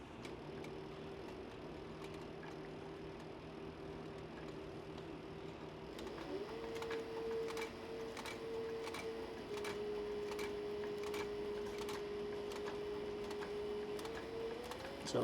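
Sewing machine stitching a seam on a cross-body sling bag, a steady mechanical hum with a run of regular, evenly spaced ticking stitches in the second half, heard close with no talk.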